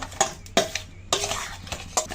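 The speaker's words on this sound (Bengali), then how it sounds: "লবণ হলুদ দিয়ে আমি ভালো করে মাছগুলো মেখে নিচ্ছি" Hands mixing tilapia pieces with salt and turmeric in a dish, giving wet squelching rubs and scraping handling noises in uneven strokes, close and fairly loud, with a brief pause midway and no talk.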